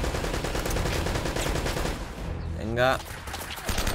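Gunfire rattles in Uncharted, a dense burst of rapid shots under steady game noise, with a voice speaking briefly partway through.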